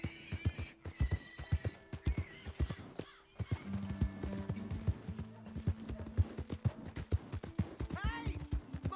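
A horse whinnies loudly over steady clip-clopping hooves in Red Dead Redemption 2, with repeated neighs and rhythmic hoof strikes throughout, in a game-like soundscape.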